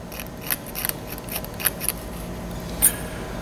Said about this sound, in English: take a razor blade and scrape on the outside